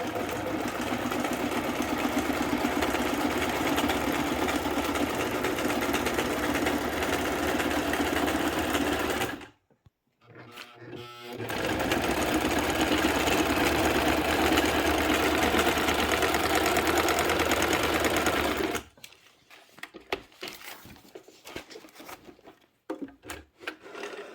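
A sewing machine runs in long steady stretches with a brief pause between, loud and close, stitching paper signatures into a vintage journal, then stops into scattered handling noises.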